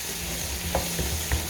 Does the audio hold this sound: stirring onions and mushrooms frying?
yes